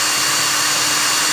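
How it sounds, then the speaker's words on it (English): A power drill boring through a piece of WoodUBend, a steady high whirring drone that runs loud and continuous from start to finish with no talk over it. "I could easily drill through it, which I'm going to show you now"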